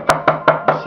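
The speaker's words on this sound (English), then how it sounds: "Johnny then uses a mallet to settle the soil into the bottom" A rubber mallet, softened by boiling, taps a bonsai pot to settle the soil, giving five quick, evenly spaced dull knocks close up.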